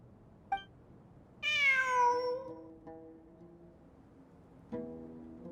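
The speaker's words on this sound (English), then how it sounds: "It really is a cat." A cat in the video game Genshin Impact gives a short chirp, then a long clear meow and a shorter second meow, heard alone against a quiet background.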